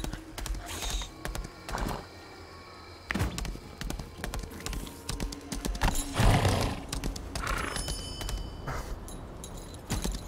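A horse gallops in the video game Lost Ark, with irregular hoof clops and thuds at moderate loudness over faint game ambience.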